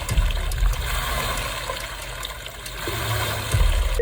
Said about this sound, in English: I had to switch to a different machine that made this really nice water sound effect.